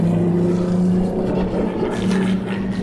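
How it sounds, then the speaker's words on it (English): Formula One cars testing at Yas Marina Circuit in Abu Dhabi, heard as a loud, steady engine drone with sustained harmonic tones that swell slightly as a car passes. "Yas Marina Circuit, baby, with Formula One testers!"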